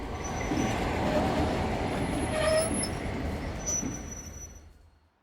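A train rolls in along a track as a sound effect, a steady rumble with faint high wheel squeals that swells and then fades away toward the end.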